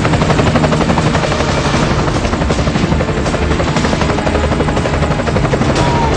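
A navy helicopter hovers over the roof of the burning Lotus Park commercial building in Andheri, Mumbai. Its rotors make a loud, steady, close thudding roar that continues without a break.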